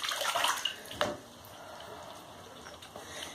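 Ferret paddling in bathtub water, a burst of splashing and sloshing at the start, then a quieter wash of water movement; faint voices in the background.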